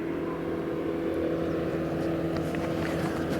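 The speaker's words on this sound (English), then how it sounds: "There goes a boat." A motorboat out on the water near the Golden Gate Bridge, its engine a steady low drone that holds throughout at moderate distance, with faint wind buffeting the microphone.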